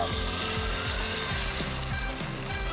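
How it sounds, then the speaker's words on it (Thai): Loud, steady crackling sizzle of an egg frying in a hot pan, a dense continuous hiss with a low hum underneath. "เมื่อกระทะร้อนแล้วตอกไข่หนึ่งฟองนะครับ ลงไปทำเป็นไข่ดาวแบบนี้เลยนะครับ"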